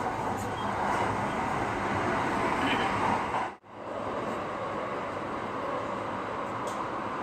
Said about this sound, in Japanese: トンネルの中で列車とすれ違いました。